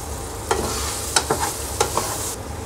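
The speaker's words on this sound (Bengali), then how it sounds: "পেঁয়াজ, ক্যাপসিকাম, এগুলো দিয়ে খুব ভালো করে এবার একটু নেড়ে দেব" Onion and capsicum fry in a pan while a spatula stirs them, a steady sizzle broken by several quick scraping strokes, close and fairly loud.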